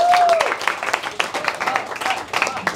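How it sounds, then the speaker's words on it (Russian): Audience at a stand-up comedy show clapping for an arriving guest, brisk scattered applause with uneven rhythm, moderately close, brief and fading slightly. "Паша Ким, аплодисменты."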